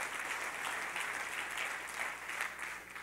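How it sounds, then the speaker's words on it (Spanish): Church congregation applauding during a worship service, with steady, dense clapping from many hands sustained throughout, loud and close with no break. "Dele fuerte el aplauso al Señor."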